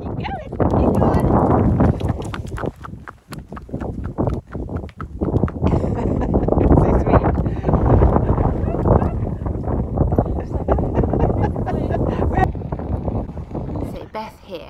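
Strong wind buffets the microphone in loud, continuous gusts on the Shetland Isles, with a Shetland pony's hoofbeats and a voice faintly mixed beneath the roar.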